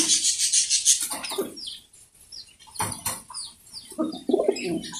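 Pigeons coo and call on a pigeon farm, including a pair of Beauty pigeons; several overlapping coos and chirps come from close by, with bursts of wing flapping and rustling, and no one speaks.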